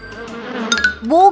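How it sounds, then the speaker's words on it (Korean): A mosquito gives a brief, close, whining buzz that rises in pitch near the end. "조심해! 모기가 피를 빨아먹으려 해."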